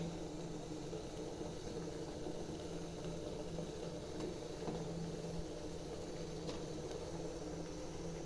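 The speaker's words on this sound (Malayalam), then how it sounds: "നമുക്ക് ഇത് വെള്ളം തിളച്ചിട്ടുണ്ട്." Water for steaming kozhukkatta boils steadily in a pot with a faint, even bubbling hiss that stays constant throughout.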